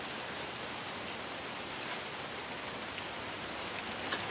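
Rain falls steadily outside a garage, a continuous even hiss of drops with no breaks, no talking, and a faint tap near the end.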